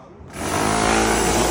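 A power drill bores into a big concrete lintel during a house renovation, starting abruptly and holding a loud, steady, harsh grinding whine to the end.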